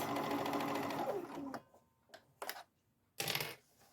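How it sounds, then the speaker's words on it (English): A sewing machine stitches fabric for a sink or cabinet skirt, running steadily and close for about a second and a half before stopping, followed by a few brief mechanical clicks and clunks. "You don't want to pull on your fabric too when you're sewing because you don't want to get a really tight stitch."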